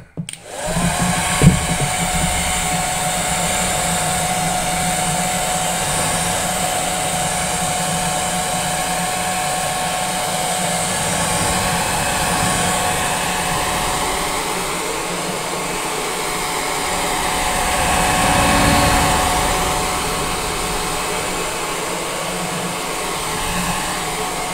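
A hair dryer blows continuously at close range for over twenty seconds, drying a layer of paint, its steady whooshing roar shifting slightly in pitch as it moves.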